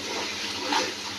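Water comes to a boil in a cooking pot, giving a short, soft, steady bubbling wash with a slight swell near the end.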